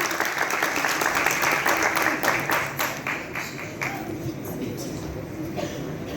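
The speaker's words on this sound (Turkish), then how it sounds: "Alkışlar onun için." Applause from an audience at a Turkish poetry recitation competition, dense and steady clapping that fills the room for several seconds before thinning slightly toward the end.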